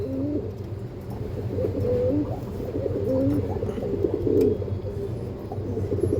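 Pair of Andhra breed pigeons cooing, several low warbling coos rising and falling over a steady background hum, moderately close with no voices.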